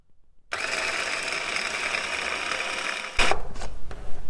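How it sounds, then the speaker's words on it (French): A food processor whirs steadily as it blends pesto ingredients with a garlic clove, a loud continuous motor drone that starts abruptly after a moment of quiet, then gives way to clattering knocks near the end. "Et on commence à mixer."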